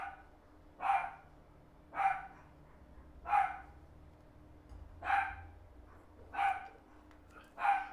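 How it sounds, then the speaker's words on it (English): Neighborhood dogs bark outside through open windows, six single barks spaced about a second apart, distant and moderately faint against a quiet background. "Every dog in my neighborhood is going nuts right now because everybody's window's open."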